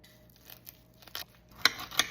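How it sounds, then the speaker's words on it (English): Scissors snip the twine off a bone-in ribeye roast: soft rustling and handling, then two crisp, close cuts near the end. "I'm going to cut off the twine"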